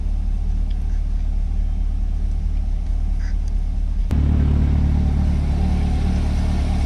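A Chevrolet C8 Corvette engine runs at idle nearby, a steady low rumble that jumps to a fuller, louder drone partway through after a sharp click.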